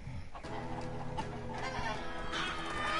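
Chickens clucking in the video game Minecraft: Story Mode, a steady run of close, repeated clucks over a low game soundscape.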